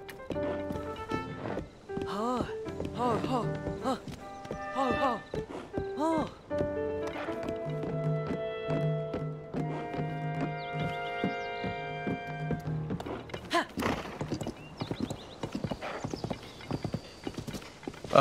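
Horse hooves clip-clop in a steady galloping rhythm in a Zelda video game set in Hyrule, with a neigh, game music tones and players talking over them.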